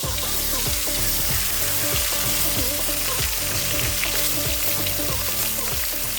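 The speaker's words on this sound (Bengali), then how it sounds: "এখন ভাজা হবে।" Large taki fish coated in turmeric and salt frying in hot oil in a pan, a loud dense crackling sizzle that runs steadily throughout, with faint rhythmic scraping beneath and no speech.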